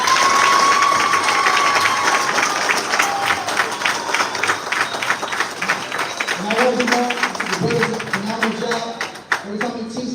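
Applause and cheering from a church congregation for a man, with dense clapping at first that thins out as the next speaker's voice begins to come through over the dying claps.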